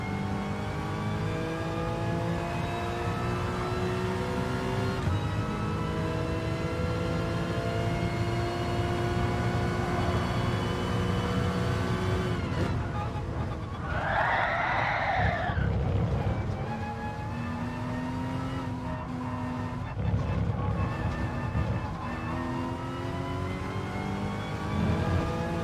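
A race car engine in GT Sport on the Suzuka circuit drones and revs continuously, pitch climbing through gears with brief shifts and a sharp whine midway, loud and steady with no talking.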